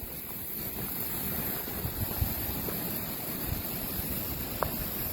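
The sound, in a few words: small waves on a lake on a windy day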